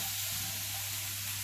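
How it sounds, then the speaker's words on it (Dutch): Diced onion sizzles gently in a frying pan, a steady, even crackling hiss close by with no talking. "En dat uitje doe ik lekker in de pan. En die gaan we aanfruiten."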